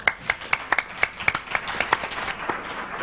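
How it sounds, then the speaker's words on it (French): Audience applause at a French business trade fair, a brief burst of sharp, uneven hand claps from a modest crowd that thins out and fades after a few seconds. "Je voudrais qu'on applaudisse Monsieur Lamy pour le trophée de l'emploi"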